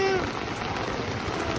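Steady rain falls at Barrio Barretto beach in the Philippines, a dense, even patter of drops on surfaces that runs unbroken throughout.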